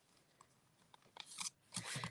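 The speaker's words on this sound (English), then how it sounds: "grab my ribbon scissors." Ribbon scissors snip ribbon tails during a papercraft stamping project, giving a few close, crisp cuts and crunches, with the louder snips near the end.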